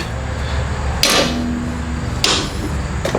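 A hammer strikes part of the rusted front subframe and steering rack area on a BMW E30, giving three sharp metallic taps spaced about a second apart, close and loud over a low steady background hum.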